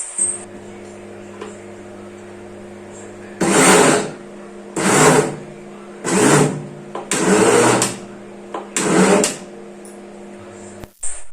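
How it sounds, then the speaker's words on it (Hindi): A mixer grinder kneading dough on pulse mode whirs in five short bursts of a couple of seconds each, separated by pauses, with a steady faint hum in between. "2 से 3 बार आप उसे पल्स के मोड पर चलाएंगे मिक्सी को"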